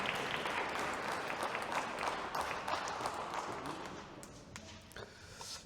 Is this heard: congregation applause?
yes